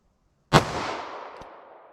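A 9mm subcompact pistol fires a Federal Punch hollow point round in a single sharp, loud shot that rings out and decays over about a second.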